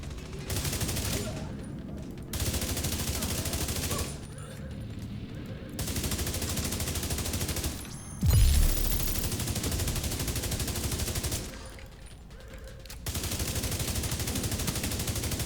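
Rapid video-game gunfire from The Division 2 during a run-and-gun build, sustained automatic bursts broken by brief pauses and one heavier boom partway through, loud and continuous.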